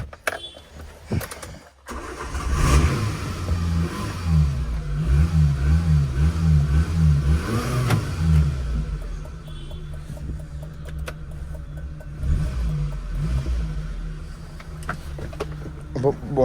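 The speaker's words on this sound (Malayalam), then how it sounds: "അപ്പോൾ ജസ്റ്റ് വണ്ടി സ്റ്റാർട്ടാക്കിയിട്ടുള്ളൊരു വീഡിയോ ജസ്റ്റ് ഒന്ന് കാണിച്ചു തരാം" A car with an electric starter motor cranks and fires up, then settles into a steady low idle with a pulsing rumble, close by and moderately loud for the rest of the stretch.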